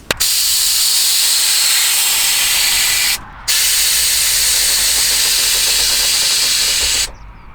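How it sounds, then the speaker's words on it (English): Loud, continuous hiss of escaping air from a vehicle's air suspension springs, briefly cutting out once before resuming and then stopping. "You can hear the springs."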